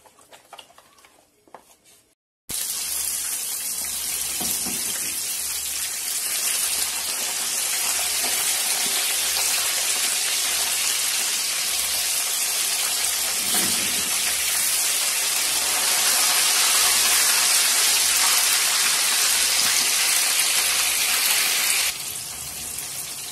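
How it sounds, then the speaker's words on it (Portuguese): Breaded bonito fish fries in hot oil with a dense, steady sizzling crackle that holds close and loud for about twenty seconds after a short quiet lead-in, with a soft rhythmic ticking underneath. "Aqui o óleo já está esquentando para a gente fritar o peixe."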